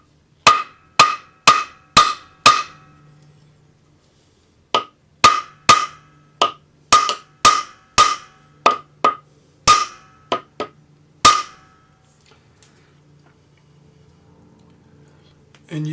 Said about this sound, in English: I'm just going to take my hammer and I'm going to hammer it right in.